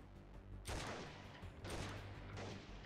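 Pistol gunfire in the video game Freeman: Guerrilla Warfare: loud shots in three bursts, with brief pauses between them after a quiet opening, close and harsh.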